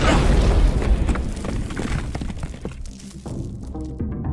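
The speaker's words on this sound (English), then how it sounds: "An explosion. The guard behind you received the brunt of it." A heavy explosion booms in the video game unMETAL, a loud low blast that rolls and decays over several seconds with debris-like crackle, no speech over it.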